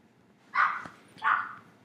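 A dog barks twice in the background, two distinct barks about half a second apart, moderately loud against a quiet room.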